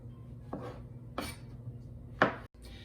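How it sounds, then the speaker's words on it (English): A knife slicing large, halved mushrooms on a board, three separate crisp cuts spaced about a second apart, close and clear over a faint background hum. "These are big, so I'm cutting them in half and then slicing them like that"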